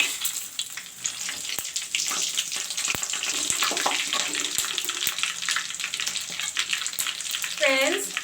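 Mustard oil poured into a hot pan while making a cauliflower, potato and peas chicken curry, giving a steady close sizzle and frying hiss with a few light clinks and a bubbling crackle toward the end.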